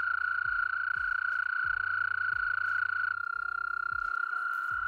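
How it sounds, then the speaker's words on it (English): American toads call at a vernal pool at night, a steady high trilling chorus holding unbroken and fairly near, with quiet background noise and no voices. "We could hear the American toads calling, so many choruses of American toads"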